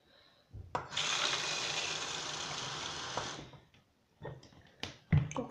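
Tap water runs into a betta fish container for refilling, a steady close hiss and splash for about three seconds, then stops, followed by a few clinks and knocks.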